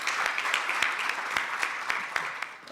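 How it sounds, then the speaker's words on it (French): Audience applause at a startup and financial inclusion conference session, a steady wash of many hands clapping with a few sharper individual claps standing out, moderately loud and continuous, no voices over it. "On peut l'applaudir."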